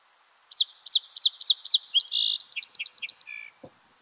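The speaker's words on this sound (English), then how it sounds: "you're likely to hear Song Sparrow singing" A Song Sparrow sings nearby, alone: a series of repeated bright introductory notes followed by a buzzy trill and faster ending phrases, then a faint cough.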